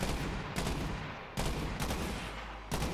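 Gunfire from a weapon in the video game Borderlands 3, loud sustained bursts of shots broken by brief pauses, close and dominant with no talking.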